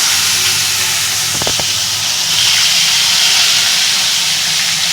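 Hilsa fish frying in mustard oil in a kadai, a loud steady sizzling hiss throughout with a brief clatter of pieces dropping into the oil partway in.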